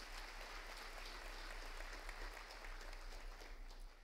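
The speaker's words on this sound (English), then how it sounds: "Let's give them a round of applause." An audience at a high school honors banquet claps, a faint, steady patter of applause from a room of people, continuing evenly for a few seconds over a low electrical hum.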